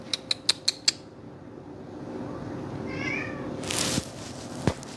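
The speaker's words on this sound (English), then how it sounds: "We got kitties." A cat meows in a rapid run of five short calls near the start, followed by quieter rustling, a soft drawn-out vocal sound and a couple of knocks, all fairly close.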